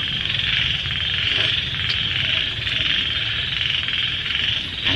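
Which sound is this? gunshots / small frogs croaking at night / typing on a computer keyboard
small frogs croaking at night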